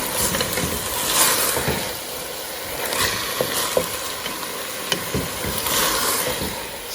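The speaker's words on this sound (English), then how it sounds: "Give everything a good mix." Yellow rice with sausage and onions stirred in a pan, a steady sizzle broken by repeated scraping strokes of the utensil against the pan, close and clear with no talking.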